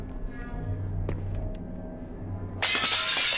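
A glass-like shatter as a doll breaks in a Roblox horror video game: a sudden, loud, bright crash bursts in near the end after a quiet stretch of low droning ambience.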